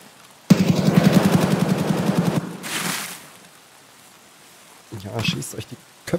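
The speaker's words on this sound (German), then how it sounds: "Aus heiterem Himmel wird hier geschossen." Sudden bursts of automatic gunfire in Escape From Tarkov, a rapid rattling volley of about two seconds, then a pause and another short closer burst, with someone speaking briefly between them.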